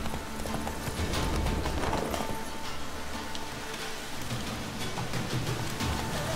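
Galloping horse hooves pound in a fast, continuous rhythm in The Witcher 3: Wild Hunt, blended with a dense wash of rain and ambient game noise.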